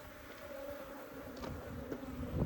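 Africanized honey bees swarm around an open-air hive, their steady droning hum filling the air without pause, close and moderately loud, with no voices.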